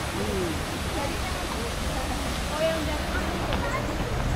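Fast-flowing river water rushing past a bathing spot in Padang, Indonesia, a steady broadband roar that fills the whole clip, with faint voices in the background.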